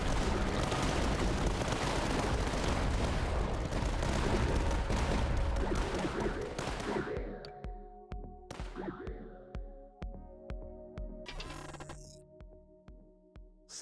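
Missiles fire in the video game Tower Dominion, first as a dense, loud roar of launches and blasts, then as a rhythmic series of separate sharp impacts that fall away and echo.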